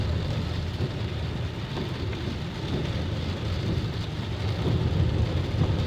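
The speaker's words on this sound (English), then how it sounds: "Let's go to high windshield wipers." Car windshield wipers on their high setting during rain, with glass treated with Rain-X, heard as a continuous broadband wash of rain and road noise that grows slightly louder toward the end, with no speech.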